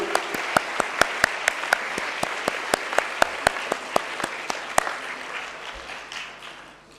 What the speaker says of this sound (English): give a big applause to yourself and to all the work you've done this year